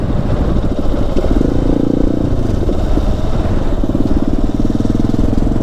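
A motorcycle engine runs steadily and loudly up close on a forest road in Africa, a continuous rumbling drone with no pauses throughout.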